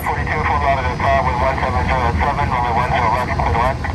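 Crackly radio chatter between a pilot and the control tower about takeoff clearance, with a continuous aircraft engine drone running steadily underneath throughout.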